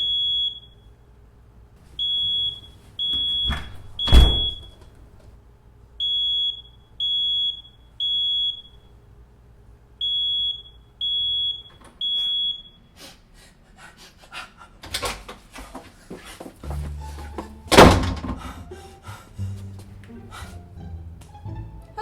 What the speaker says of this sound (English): What is that? Smoke alarm.